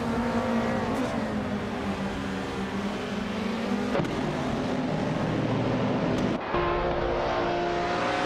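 Several race cars in a racing video game, including a vintage 1979 BMW M1, roar off the start line together, a loud steady engine drone with pitch shifts and a couple of sharp gear-change breaks.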